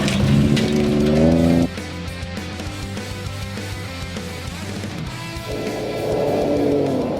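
A modified off-road truck fitted with a Whipple supercharger runs a fast lap, its engine roaring loudly, easing off, then climbing again in pitch as it accelerates.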